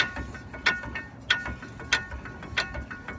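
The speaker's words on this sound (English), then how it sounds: "All right, we'll bring the jack up." Floor jack being pumped up under the fuel tank of a 2001 Ford F450, a run of rhythmic ratcheting clicks at a steady pace, close but fairly quiet, with no voices.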